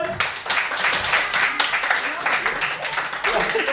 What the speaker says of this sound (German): Jetzt nehmen wir im Fachkreis einen Applaus.